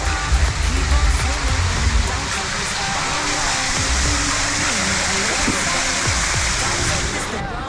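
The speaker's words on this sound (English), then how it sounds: "Waterfall." An indoor artificial waterfall at the Rainforest Cafe in Pattaya, Thailand, a constant broadband rush of falling water filling the space, steady and close, with faint low room rumble beneath.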